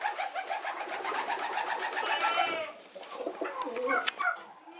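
Pigeons on a farm coo in soft, rhythmic, repeated calls that come from close by, with a short lull partway through before the cooing starts up again.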